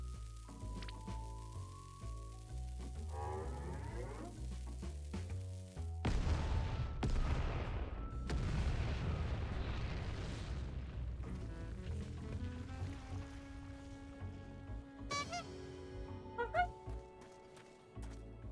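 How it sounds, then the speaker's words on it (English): A bomb blows up in Final Fantasy XIV, a loud booming burst over the game's music and effects, with further crackling blasts and a sustained rumble trailing after. "That's a bomb, or I was born yesterday."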